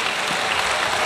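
Audience applause at a church prayer rally in Busan welcoming a former prime minister to the stage, a brief steady burst of clapping filling the room with no voices.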